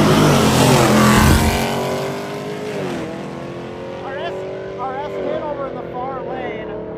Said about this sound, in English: we're gonna see a couple of our trucks get down here and take a side